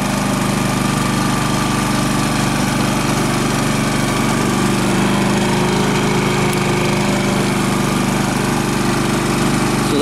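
A Champion 3500-watt dual fuel generator runs on propane, producing a loud, steady, unbroken engine drone at close range with no talk.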